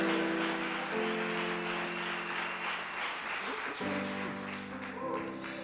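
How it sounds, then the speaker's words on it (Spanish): A church congregation applauding during a sermon, sustained dense clapping heard through a reverberant hall, with a steady sustained tone sounding underneath the whole time. "Denle un fuerte aplauso a Dios si lo cree"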